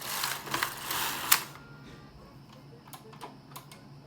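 A Singer knitting machine carriage sweeps across with alpaca wool, giving a rattling, clicking pass for about a second and a half, then quieter scattered ticks and clacks.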